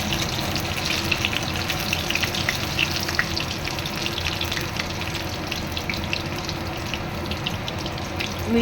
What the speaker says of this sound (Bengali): মিডিয়াম টু লো আঁচে এগুলোকে ভেজে নেব